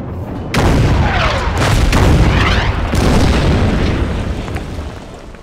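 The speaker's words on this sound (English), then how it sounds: "I love the 17cm K-18. These things are deadly. We'll go ahead and fire at the infantry." A 17cm K-18 heavy gun fires in Order of Battle WW2, a loud booming blast followed by a long rolling rumble and further thuds trailing off.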